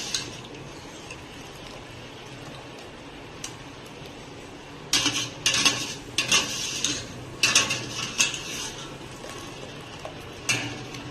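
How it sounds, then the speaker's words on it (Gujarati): Boiled potato wafers tipped into a perforated colander make clattering, sloshing bursts after a quiet start, several sharp metallic knocks and rattles spaced over the second half, close and fairly loud. "આ રીતે કાણાવાળો વાસણ લઈ તેમાં આપણે વેફરને કાઢી લઈશું જેથી વધારાનું પાણી નીકળી જાય"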